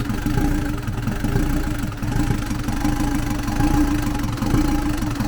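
A Lublin van engine running after a rocker arm replacement, a steady, close mid-pitched rumble with a rapid uneven knocking pulse throughout, no talk over it.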